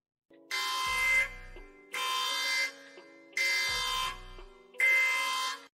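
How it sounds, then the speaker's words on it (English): A phone alert for an incoming support ticket sounds four evenly spaced, harsh, buzzy electronic tones, each lasting about a second and separated by short silences. "It's the sound of that mind-numbing beep you've grown to loathe."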